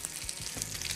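Onions sizzle and fry in a pot on a stovetop, a close, continuous crackling hiss with small pops, and no voices.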